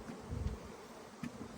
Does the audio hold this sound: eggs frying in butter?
no